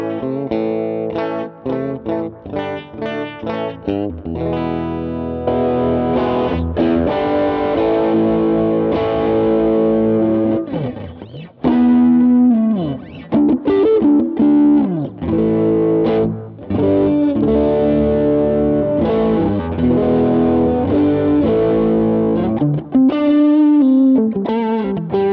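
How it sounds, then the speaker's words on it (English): Guitar through a Marshall-style amp model on an HX Effects unit, driven and loud with chorus shimmer, riffs and sustained chords played close for about twenty-five seconds with short gaps. "This one's supposed to be sound like a Marshall."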